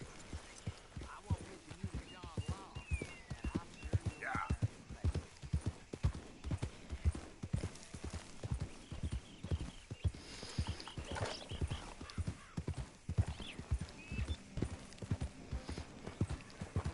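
Steady clip-clop of horse hooves trotting at an even pace in Red Dead Redemption 2, with a faint background ambience and occasional soft tonal cues.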